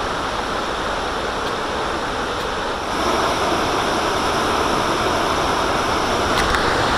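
A river in Yosemite rushes in full flow, a loud, continuous roar of churning water close by, steady throughout with no voices.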